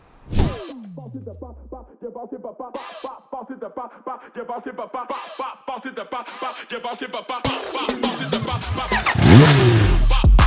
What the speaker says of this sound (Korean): 바로 카와사키 닌자 H2입니다.